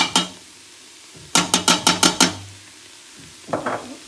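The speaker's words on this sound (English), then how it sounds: "Give it a good stir round. Mix it all together." A spoon clanks against a metal pot while spices are stirred into chilli: one knock, a quick run of six rhythmic clinks, then a softer scrape, all close and clear.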